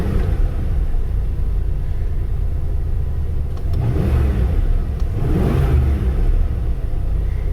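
Engine of a 1993 Ford Econoline van revving in two rising surges over a steady low idle rumble, loud and close, with no talking.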